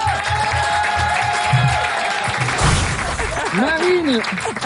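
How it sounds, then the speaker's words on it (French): Applause and crowd noise from a French TV show studio audience, a steady wash of clapping with voices and some musical tones rising over it. "il y avait Sophie Talman que vous pouvez applaudir"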